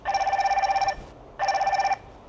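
Incoming call ringtone from a TECNO Watch Pro 2 smartwatch: two bursts of rapid trilling electronic ringing, each about a second long with a short gap, close and clear with no talk.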